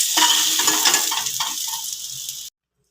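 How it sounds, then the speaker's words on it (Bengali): Eggplant frying in hot oil in a pan while being turned over, a steady bright sizzle with a few soft clinks and scrapes of the utensil, cutting off abruptly near the end. "উল্টে পাল্টে ভালো করে একটু ভেজে নিলাম।"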